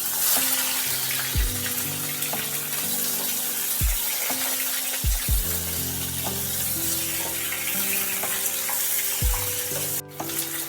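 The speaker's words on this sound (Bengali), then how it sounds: "বেগুনগুলো ওই মাছ ভাজার তেলেতেই একটু ভেজে নিচ্ছি।" Eggplant slices fry in oil left from frying fish, a loud, continuous close sizzle with bright crackling, broken by a few soft clanks and stirring scrapes from the pan, no talking.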